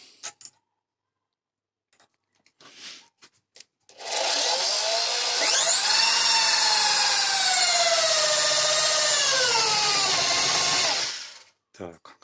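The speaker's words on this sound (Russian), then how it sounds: "Так, берем дрель." A power drill whines steadily for several seconds, its pitch rising and sagging as the bit bites into hard tool steel, then it stops; brief clicks before and after.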